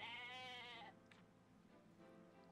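A goat in the video game Atelier Ryza gives a single clear, nasal bleat lasting under a second, followed by quiet background game ambience.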